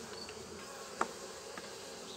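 Honeybees buzz in an open beehive with a faint, steady hum, joined by a few brief clicks and taps.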